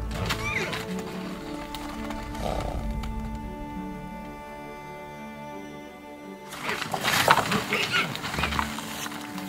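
Wild Yakutian horses in a frozen, icy landscape give loud whinnies and snorting calls in two bursts, at the start and again near the end, with a steady low rumble of background noise.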